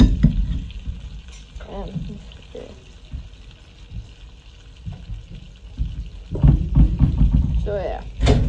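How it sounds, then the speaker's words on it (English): Butter melting and sizzling in a frying pan during an outdoor catch-and-cook of lake fish, a soft steady fry with stirring and scraping under intermittent talk, growing louder near the end. "Gonna put some more butter, let it melt"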